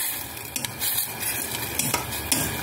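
Noodles with spring onion cook in a pan, and steady close sizzling runs under repeated scraping strokes of a utensil stirring, with no speech.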